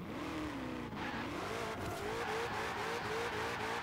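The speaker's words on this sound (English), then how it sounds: "Wanted that wheel spin." A 2020 Ford Mustang Shelby GT500 in Forza Horizon 4 spinning its wheels: a loud, sustained engine roar with rising revs and squealing tires, continuous throughout.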